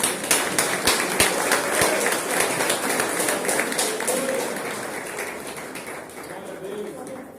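A church congregation claps during a worship service, a fairly loud mix of many hands that slowly fades, with voices underneath.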